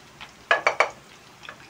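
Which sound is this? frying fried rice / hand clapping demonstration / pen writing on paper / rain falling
frying fried rice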